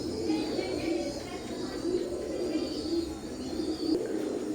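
Faint, regular throaty coos come from a baby pair of imported KTM bloodline Teddy pigeons, repeating in a slow steady rhythm with little else around.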